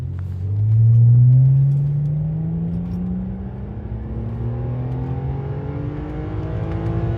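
A 2011 BMW 328i engine revs up hard and climbs through rising pitches as paddle-shifted gears change, a loud steady roar continuing after the first surge.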